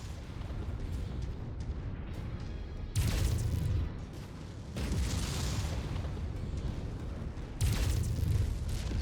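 Explosions in the MechWarrior 5 video game, heavy booming blasts rolling in three waves over continuous rumbling battle noise, loud and close, with no voices.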